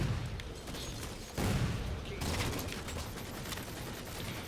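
A powerful ordnance gun in Halo 4 fires in a dense, roaring burst of rapid shots and blasts, loud and close, with a sharp surge midway.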